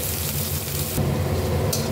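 Chopped onion fries in oil in a pan, giving a steady, close, fairly loud sizzle that hisses evenly for a couple of seconds with no voices.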